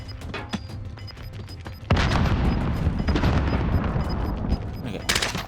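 A frag grenade detonates in Call of Duty: Warzone, a sudden heavy blast that gives way to a long, loud, rumbling roar of debris and gunfire, with a second burst near the end.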